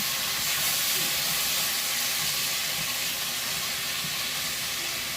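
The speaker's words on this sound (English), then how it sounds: "And start scraping at the bottom too. Want to get that fond off of the pan." Seasoned vegetables sizzling hard in a pan while the fond is scraped off the bottom, a loud continuous hiss with faint scraping under it throughout.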